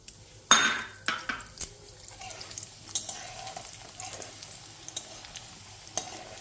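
Moong dal hits hot oil with mustard seeds while suji upma is cooked, setting off a close sizzle with sharp crackles and utensil clinks that fade into a softer, steady frying hiss, with no talk.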